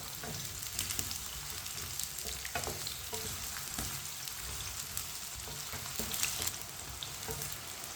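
Eggplant pieces frying in oil over medium heat for aloo baingan, a steady crackling sizzle with the scrape and clatter of a spoon stirring through the pan, no voices.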